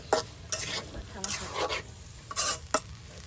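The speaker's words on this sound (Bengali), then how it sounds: "এই যে এখন আলু কুচিগুলো দিয়ে দেওয়া হলো সেই মাছে" Chopped potatoes tossed with small river fish in a pan: several bursts of scraping stirs over a soft sizzle, close and intermittent.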